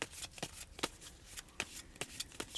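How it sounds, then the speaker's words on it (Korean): Tarot cards are shuffled close up in a series of sharp riffling bursts, roughly six quick flurries over a couple of seconds with short gaps between them. "여러분들이 어떤 결정을 내릴 때 도움이 될 만한 조언 카드 한 장을 뽑고"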